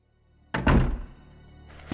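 A door in the original Resident Evil 2 opens with a single heavy thunk and a short, low rumble that fades, followed by a faint second knock at the end; no talking.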